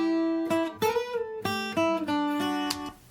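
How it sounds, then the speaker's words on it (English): A Nashville-tuned guitar, its top three strings an octave higher, plays a bright plucked country lick of several ringing notes and double stops in a loose rhythm, close and clear with no talking. "And then I put a Nashville tuned guitar."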